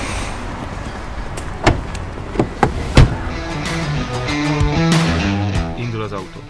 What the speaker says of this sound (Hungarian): Rácsukhatom az ajtót?